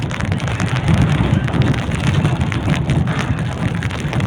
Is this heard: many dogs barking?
no